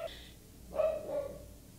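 A dog barks indoors, giving one or two muffled, moderately loud barks close by with no talk over them.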